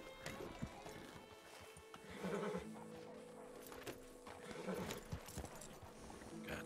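Arabian horse in Red Dead Redemption 2, hooves clip-clopping in short bursts at moderate distance, with faint whinny-like calls over low background noise.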